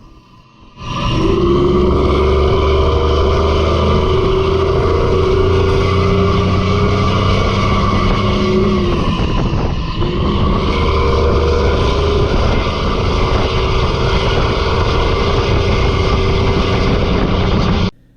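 A Mack truck's engine and exhaust pipes roar while driving, a loud, steady, deep rumbling drone with a rough low throb that holds for most of the stretch, briefly dipping midway as if shifting, recorded close and without talk.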